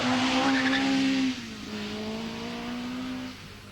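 A Group 1 rally car on a stage of the 1980 Ulster Rally, engine droning loudly at a high steady pitch, then dropping briefly as it changes gear and pulling again at a slightly lower whine, close and alone.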